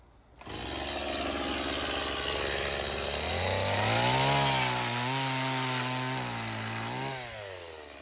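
Power saw cutting plastic panels about 1.2 m long during a hedge and awning build, a loud continuous motor whine that rises in pitch, holds steady with small wavers, then drops as the cut ends, with no talk.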